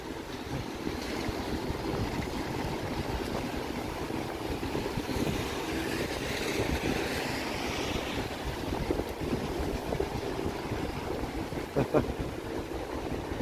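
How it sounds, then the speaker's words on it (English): Strong, gusty wind at Toronto's Harbourfront on a stormy day, a constant broadband roar buffeting the microphone near the lake water, with no voices. "The wind is wild, that's for sure."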